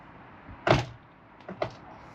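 The door of a Başkent Karavan Ares 310 towed caravan moves, giving one fairly loud thudding knock followed a second later by a softer rattling clunk, close by and without speech.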